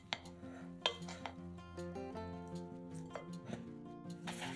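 Filling ingredients for a lavash roll, including cheese, sausage, herbs, salt and ground black pepper, being stirred in a bowl, with a steady run of clinking, scraping utensil taps and small knocks, close and moderately quiet.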